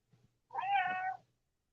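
A cat named Kitty Joe gives one clear, drawn-out meow up close, preceded by a faint short chirp in an otherwise quiet setting.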